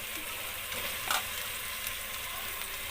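Chicken sautéing in a pan for biryani, a steady close sizzle and fry with a brief stir or scrape partway through, heard alone without talk.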